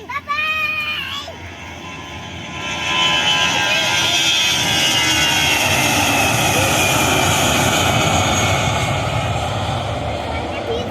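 An airliner takes off at Yogyakarta International Airport (YIA) in Kulon Progo, its roaring jet noise building after a few seconds and holding loud and broad, with a child and an adult talking briefly at the start.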